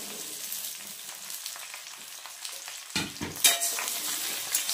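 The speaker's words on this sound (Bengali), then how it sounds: "এবার এটাকে একটু ভাজা ভাজা করে নেব কুলটাকে।" Jujube berries fry in hot oil with a steady close sizzle, broken near the middle by a few sharp scraping clatters as they are stirred, then the crackle carries on.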